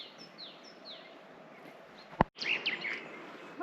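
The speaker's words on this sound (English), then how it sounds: "Birds are tweeting." Birds chirping and tweeting in the Vikos gorge in Greece, short rising calls over steady outdoor background noise, with a brief sharp knock partway through.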